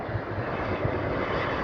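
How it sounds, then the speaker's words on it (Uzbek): Airplane arriving at a large European airport, a steady broad jet-engine roar held at an even, fairly loud level throughout, with no voices. "yana bitta samolyot keldi, mana qaranglar"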